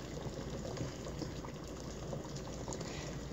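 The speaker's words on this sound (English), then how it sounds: "If you start to notice that it's like over boiling, you can reduce the heat." A pot of chicken and dumplings bubbles steadily on the stove, a continuous close simmering hiss and burble at low volume with no talking.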